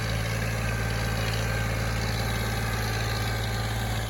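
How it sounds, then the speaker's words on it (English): A tractor engine idles close by, a loud, steady low drone with even rumble and no change in pitch from start to finish, no voices. "We bought a tractor."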